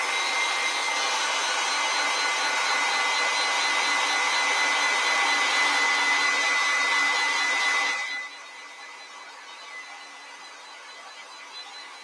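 A hair dryer blows steadily on a watercolor painting of fall leaves, a loud, even whir for about eight seconds before it switches off, leaving only faint room tone.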